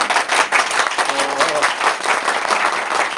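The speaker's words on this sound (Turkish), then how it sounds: "Bravo, bir alkışlayalım mı ya?" A studio audience applauds in a steady, dense burst of many hands clapping, with faint voices mixed in beneath the noise throughout.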